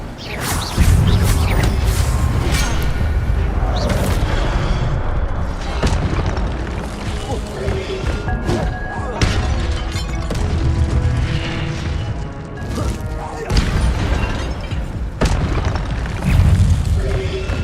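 Incendio fire spell cast in Hogwarts Legacy, loud booming magical blasts and whooshes amid dense combat effects and clattering mechanisms, with repeated bursts throughout.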